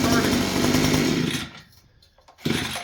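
A small Temu-bought engine roars loudly in a chainsaw-like buzz, then cuts out into near silence before sputtering back briefly near the end.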